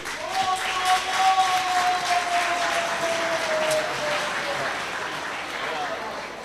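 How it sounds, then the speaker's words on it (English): Applause from the audience at the Northern Uganda Film Awards gala, a broad wash of clapping that swells early and then holds steady, with a voice and a lingering tone over it. "Let's clap for that gentleman."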